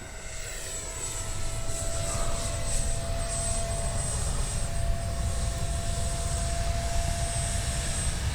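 A Freewing 70mm F9F-5 Panther RC jet climbing steeply after takeoff with gear up, its ducted-fan whine loud and steady across the whole stretch, a continuous high-pitched roar with no talk over it.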